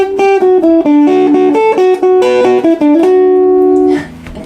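Electric guitar plays the notes of a guitar solo plainly and evenly without expressive phrasing, a clear run of single sustained notes that ends on a held note around four seconds, then a brief fading tail.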